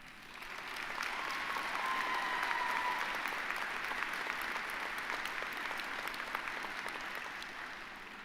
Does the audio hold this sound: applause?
yes